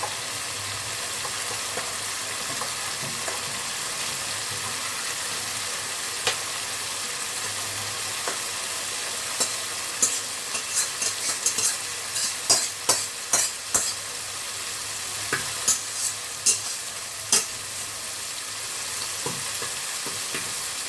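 Vegetables frying in a pan of oil, a steady hissing sizzle close by for the whole stretch, with a cluster of quick spoon scrapes and clicks from stirring in the second half; no voices.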